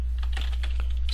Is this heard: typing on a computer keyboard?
yes